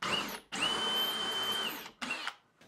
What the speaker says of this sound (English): I'm just going to do a little wiggling with the drill